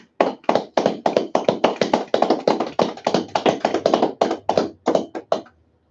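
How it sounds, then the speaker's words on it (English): A congregation at an Indianapolis Sabbath service claps hands in unison, a loud, steady rhythmic beat of sharp claps that keeps time for several seconds before trailing off near the end. "Clap it up."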